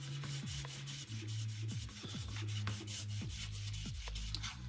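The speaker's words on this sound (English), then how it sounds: "you're going to use this tool sliding back and forth to sand them like this" Steady back-and-forth rubbing and scraping of sandpaper on a block, rhythmic strokes close up, with no one talking.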